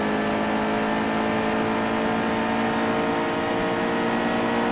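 Steady, droning race car engine in the NASCAR Heat 2 video game, a sustained high-rpm roar at constant pitch with no pauses, loud and close.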